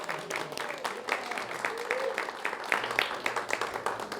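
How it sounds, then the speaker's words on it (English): A gathered congregation at a spiritual talk gives a round of applause after a song, steady moderate clapping with scattered louder claps throughout. "Another round of applause, please."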